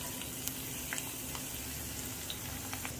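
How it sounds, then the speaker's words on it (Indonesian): Garlic and shallots fry in hot oil, a faint, steady sizzle with scattered small pops and crackles, heard alone. "Minyaknya sudah panas. Bawang putih, bawang merahnya kita goreng."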